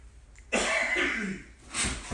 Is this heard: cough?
yes